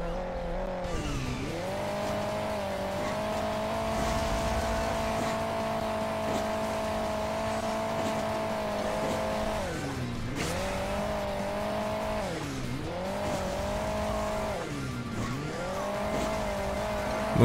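Race car engines in Hill Climb Racing 2 drone continuously at a steady, buzzy pitch, dipping and rising with repeated gear shifts and revs, close and loud with no talk.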